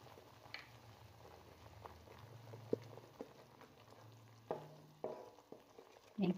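Salt and dry coriander frying with spices in a pan give a faint, steady sizzle close by, with occasional soft stirring scrapes and a few louder clunks toward the end.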